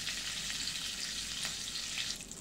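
Onions frying in oil with cumin, asafoetida and curry leaves for a white pea curry, giving a steady, close hiss of sizzling with a few faint crackles and no voices.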